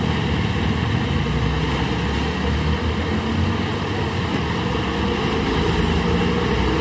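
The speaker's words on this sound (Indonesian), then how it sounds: "Ya, truk ini menggasing-gasing ya." A heavy container trailer truck labours up a steep hill as its wheels spin and lose grip, a dense, steady engine roar and grinding rumble held loud and close throughout without any talk.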